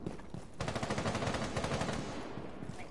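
Rapid automatic gunfire in the video game Rainbow Six Siege, a sustained burst of fast shots at moderate level with no talking.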